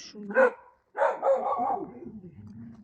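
Local dogs bark and yip near a feeding spot, a few loud barks close by, mixed with a person talking.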